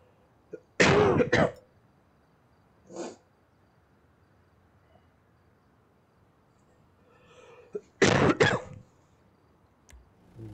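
Two loud, close coughing bursts with a softer throat-clearing sound between them, separated by quiet stretches in an indoor room.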